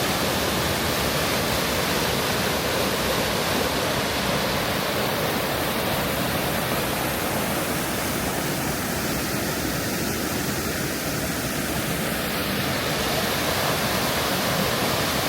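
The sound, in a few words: waterfall at Great Falls Mill ruins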